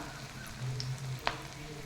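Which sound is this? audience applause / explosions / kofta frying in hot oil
kofta frying in hot oil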